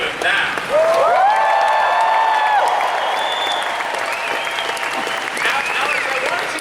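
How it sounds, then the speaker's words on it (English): Comic Con panel audience in a large hall bursts into loud, sustained applause and cheering, with whoops and shouts riding over steady clapping that swells after a brief pause and holds strong throughout. "I think you guys can applaud a little louder than that."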